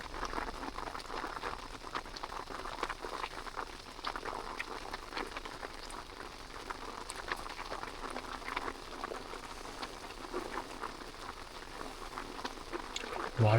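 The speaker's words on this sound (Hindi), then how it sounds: "बारिश शुरू हो गई भाई फिर से।" Steady rain falls at a snowy campsite in extreme cold, a dense, even patter of drops that runs unbroken throughout at moderate volume.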